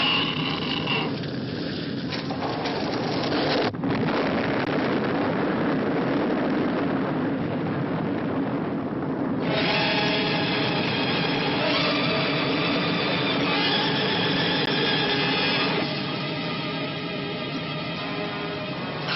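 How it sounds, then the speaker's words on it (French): A ship's two engines running slow ahead, heard as a steady low mechanical rumble with droning tonal hums that shift partway through, continuous and fairly loud, with no talk. "Les deux moteurs en avant, au ralenti."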